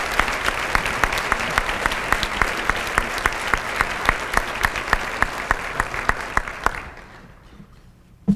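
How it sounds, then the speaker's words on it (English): An audience at the Jacksonville Urban League Equal Opportunity Awards 2012 gives Bishop McLaughlin a round of applause, steady crowd clapping with some sharp individual claps, fading out near the end. "please give Bishop McLaughlin a big round of applause as he comes forward"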